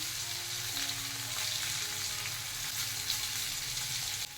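Chopped ginger fries with a steady, close sizzle and light stirring, a continuous hiss with nobody speaking.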